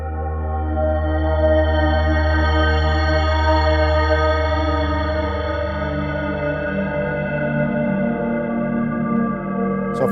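A KORG opsix synthesizer holds one lush, sustained chord through reverb and chorus-style effects for about ten seconds. The rich tone shimmers and stays loud, with no talking over it.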